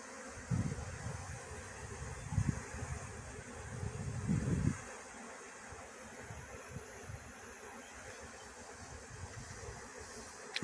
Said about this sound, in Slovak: A takto vzniká včelia rodina. Nová. Rojom.